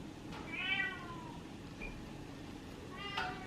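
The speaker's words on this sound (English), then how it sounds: "please excuse the meowing cat" A hungry female house cat meows in a kitchen, one clear drawn-out cry followed by a shorter call a few seconds later, fairly close with quiet room noise between.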